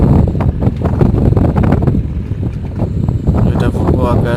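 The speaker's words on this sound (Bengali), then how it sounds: "জেলে বেড়া জাল টানে, হালকা বাতাস। ছোট ছোট ঢেউ।" Light wind and small waves around a fishing boat before sunrise, while a fisherman hauls in a net: a rough, gusty rumble of wind on the microphone with irregular knocks and splashes, loud and close throughout.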